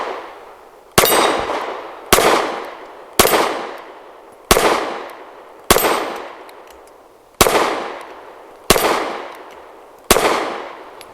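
Eight loud, sharp pistol shots from a Kel-Tec P15 firing Magtech 115 grain rounds, spaced roughly a second or so apart, each crack ringing out with a decaying echo, no voices.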